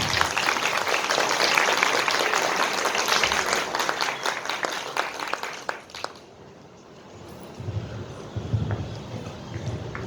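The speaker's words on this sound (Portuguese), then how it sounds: "Por isso, palmas para a Violeta." An audience applauds the poet Violeta Branca at a literary event in Amazonas: dense, steady clapping for about six seconds, then it thins out to a few scattered claps and low murmurs.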